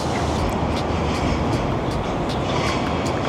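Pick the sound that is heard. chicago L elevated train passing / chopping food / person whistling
chicago L elevated train passing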